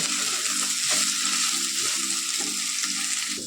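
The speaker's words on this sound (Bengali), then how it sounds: "এদিকে রান্না হচ্ছে তোমার হলো কি ফুলকপি দিয়ে আলু দিয়ে ভাজা" Soybean and cauliflower with potato fry in a pan, a loud close sizzle broken by regular scraping stir strokes about twice a second, steady throughout and without talk.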